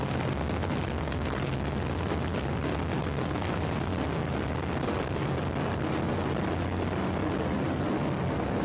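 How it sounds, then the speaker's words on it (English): A Delta II rocket lifts off carrying the WISE satellite, its solid boosters and main engine producing a continuous, broad, crackling roar. The roar is heard from a distance and holds steady and even throughout, with no voices over it. "We have ignition and liftoff of a Delta II rocket"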